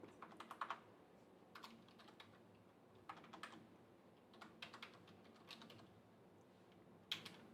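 Computer keyboard typing while entering code, with soft, close clusters of key clicks in irregular bursts separated by brief gaps, quiet overall with no talking.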